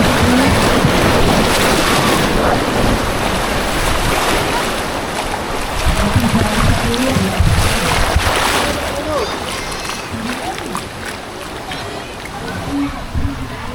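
A fast-flowing river current rushes during tubing, with splashing water and heavy wind noise on the microphone, and voices can be heard over it.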